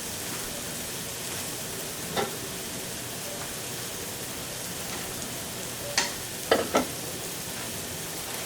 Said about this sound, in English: now we're going to add the cream